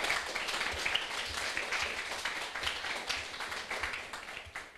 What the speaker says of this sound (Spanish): si quieren dar el aplauso no importa.